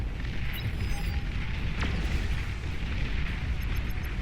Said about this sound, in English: Battleship's kind of ground firing.